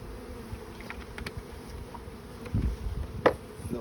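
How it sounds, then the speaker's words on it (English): A large honeybee swarm buzzing inside a hive box, a dense continuous hum up close with a few louder bumps and clicks from handling. "This is a large swarm."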